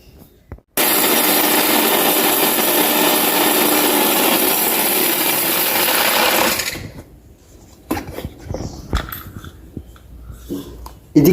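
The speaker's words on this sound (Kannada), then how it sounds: "ಇದನ್ನು ಮಿಕ್ಸಿಯಲ್ಲಿ ಪುಡಿ ಮಾಡುವ." A kitchen mixer grinder starts abruptly and whirs loudly for about six seconds, grinding coriander seeds, mustard seeds, cumin and curry leaves, then cuts off, leaving scattered light clicks and rattles of the jar.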